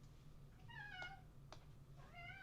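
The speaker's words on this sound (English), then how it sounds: "My cat is celebrating for you as well." A house cat meows three times, short and plaintive, fairly faint over a steady low electrical hum in an indoor room.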